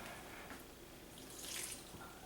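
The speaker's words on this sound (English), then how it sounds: "Add some water." Water pours into rice inside a Ninja Ultima blender jar while dosa batter is being prepared, a steady soft trickle and splash running for a couple of seconds, brightening briefly near the end, with no talking.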